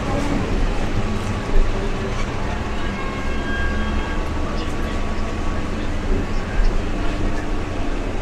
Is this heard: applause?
no